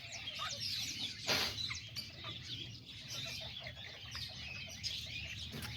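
Small kikiriki hens and roosters clucking and chirping in a yard, with several overlapping birds close by and one brief burst of wing flapping.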